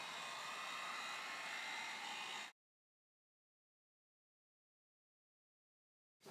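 A heat gun blows steady, loud hissing air onto the headlight lens of a Mk4 VW GTI for about two and a half seconds, then cuts to silence before a brief return at the end.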